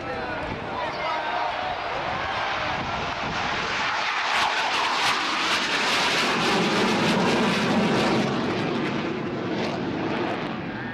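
A Fairey Swordfish 'Stringbag' biplane flies at the Wings and Wheels Dunsfold 2013 airshow, its steady propeller engine drone loud and continuous throughout, rising as it passes, with a commentator talking over it.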